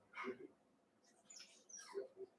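A dog whimpering indoors, a few short high whines and yips in quick bursts, close and fairly quiet against a still background.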